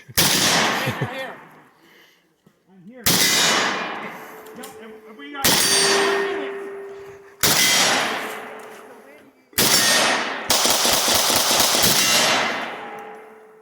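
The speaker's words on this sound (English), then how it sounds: "You're ringing the bell there." Five loud gunshots, each followed by a sharp metallic ring from a steel bell target, spaced a few seconds apart at an outdoor shooting gathering in Henniker, New Hampshire; the later shots leave longer ringing tones.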